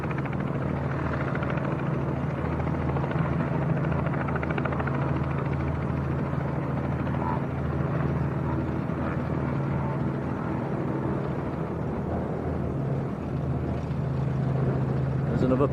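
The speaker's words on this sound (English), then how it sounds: "Another PA28 Cherokee starting up as well." Piper PA28 Cherokee light aircraft engine running at a small airfield, a steady droning hum with low rumble held throughout at moderate distance.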